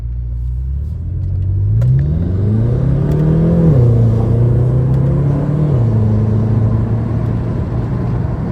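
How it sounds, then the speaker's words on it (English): Inside a 2013 BMW F10 M5 on the road, the engine drone climbs steadily as the car accelerates, pulls through a gear, then settles to a lower cruising hum, with a few faint cabin clicks. "this is a 2013 F10 M5"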